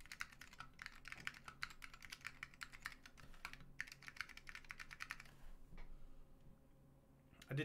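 Fast, steady typing on a mechanical keyboard fitted with NOS SKCL Yellow switches, a dense run of crisp close clicks that thins out and pauses near the end, recorded quietly.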